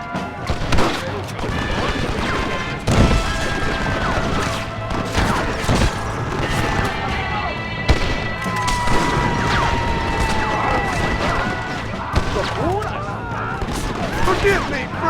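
Rapid machine gun bursts and sharp crashing shots from the Red Dead Redemption video game ring out loudly and repeatedly in a chaotic firefight, with voices shouting amid the gunfire.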